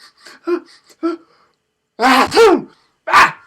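A voice imitates a sneeze, with a few soft breathy sounds building into a loud drawn-out 'ah-ah' and then a sharp final burst.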